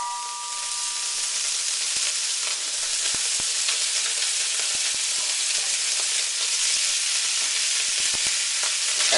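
Shrimp with lobster sauce, black bean, ginger and garlic stir-fries in an oiled pan, giving a loud, continuous close sizzle punctuated by scattered light clicks of the spatula against the pan.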